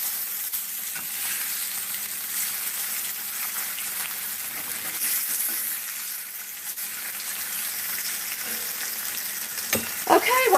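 Bologna frying in a pan gives a steady, close crackling sizzle throughout, with a few clinks near the end and no voices.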